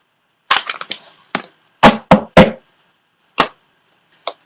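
Oracle cards are shuffled in a series of sharp, crisp card slaps and riffles, close to the microphone, separated by short silent gaps and without talk.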